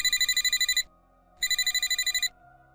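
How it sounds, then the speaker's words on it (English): A work phone rings with a classic electronic bell trill in two loud, close bursts separated by a short silence, used as a sound effect in a horror story. "Then my work phone rang."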